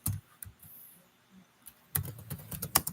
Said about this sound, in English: Let me just type in the chat.